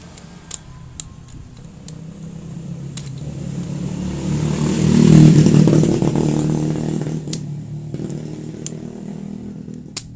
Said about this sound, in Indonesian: Kalau misalkan di bagian relay kita jumper itu bunyi starter langsung hidup ya di bagian motor